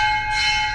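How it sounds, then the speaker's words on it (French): A Hindu temple bell in Varanasi rings with a bright, sustained metallic tone that holds steady and loud, nearby and without any voices. "Je crois qu'on peut sonner la cloche."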